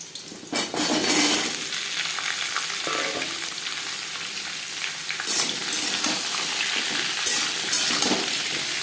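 Diced papaya frying in hot oil with cumin seeds, dried red chilli and bay leaf for a Bengali papaya and masoor dal ghonto. The sizzle is steady and close, with occasional scrapes and clinks of a spatula against the pan.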